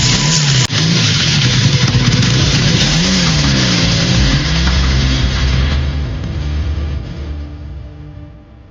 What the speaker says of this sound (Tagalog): Padali mo na yung motor!